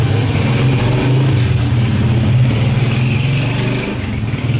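Busy street traffic in Shiraz, Iran: a steady, loud wash of car engines with revving and accelerating close by, continuous throughout with no talk.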